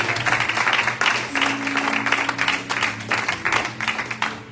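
A church congregation claps together after a sermon, a loud, steady wash of applause with rhythmic surges and voices faintly mixed in.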